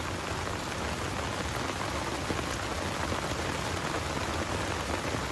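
Steady rain falls at a campsite beside a forest river, a dense even hiss of drops on surfaces that is loud and constant throughout, with no voices.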